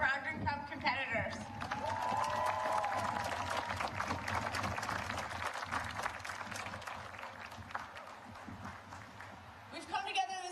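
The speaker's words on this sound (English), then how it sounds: "join me in a huge round of applause for our Brogdon Cup competitors" Crowd applause at a lacrosse event, a broad sustained wash of clapping from a large gathering that builds and then tapers, with voices and a speaking voice at the start and end.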